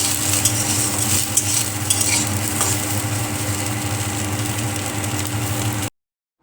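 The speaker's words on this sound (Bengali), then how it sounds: "এই সয়াবিন আর আলু ভালোভাবে ভেজে নেব।" Soybean chunks and diced potatoes frying in a pan, a loud steady sizzle with occasional stirring scrapes, close up, ending abruptly in silence.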